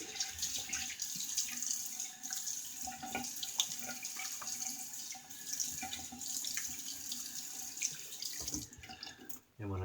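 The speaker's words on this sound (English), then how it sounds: "Let me rinse this off," Shaving razor, a Durham Dorset fitted with a modified Feather Pro blade, rinsed under a running bathroom tap: a steady hiss of flowing water with small clinks and splashes, faint and close with no talking.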